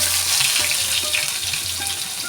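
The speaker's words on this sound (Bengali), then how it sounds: "ফোড়নটা ভেজে নিলাম এখন দিয়ে দিচ্ছি রসুন" Black cumin seeds, a dried chilli and garlic frying in hot oil, giving a loud, steady sizzle that runs continuously without pause.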